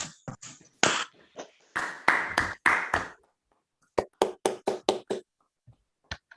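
Scattered, uneven handclaps arrive in short bursts, sounding clipped and thin as if coming through a call, with a brief pause between rounds.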